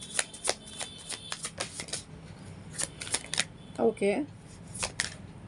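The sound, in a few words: tarot cards being shuffled and drawn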